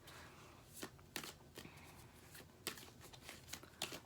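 A deck of tarot cards is shuffled up close in a series of distinct riffling, slapping bursts separated by short pauses.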